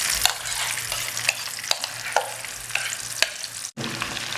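Masala paste frying in hot oil after cumin for Lahori chikar cholay, a steady close sizzle punctuated by regular sharp scrapes of a spoon stirring through the pan.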